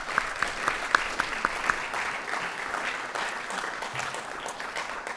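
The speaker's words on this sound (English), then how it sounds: "Round of applause for the Stetson family." A crowd at an athletics hall of fame ceremony applauds steadily, several distinct nearby claps at first over a broad wash of clapping that carries on evenly.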